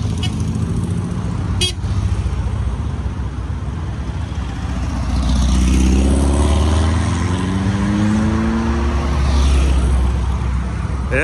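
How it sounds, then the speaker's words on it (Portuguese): Cars leaving a Volkswagen enthusiast event, with engines passing close by, one revving louder and building in the second half over a steady road rumble, plus a brief horn toot. "é bastante carro que tá saindo daqui do evento."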